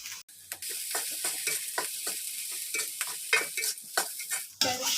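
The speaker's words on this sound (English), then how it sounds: "Then stir until the rice and soy sauce are well blended." Fried rice with soy sauce and sausage is stirred in a hot pan, a spatula scraping in quick, repeated strokes over a constant close sizzle, with no voices.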